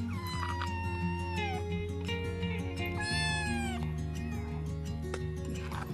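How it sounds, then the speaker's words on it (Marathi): Small kittens mewing in a village setting, several high, drawn-out cries overlapping near and loud over a continuous low background hum. "हे बघा, मस्त अशी छोटी छोटी पिल्लं आहेत मांजरीची."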